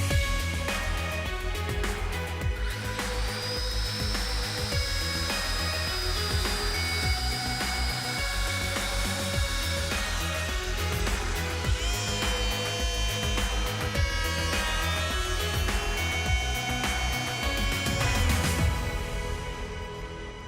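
Power saw cutting through a panel for a DIY arcade cabinet, a loud, dense continuous whine and roar with shifting pitch bands that runs unbroken for about twenty seconds before easing slightly at the end.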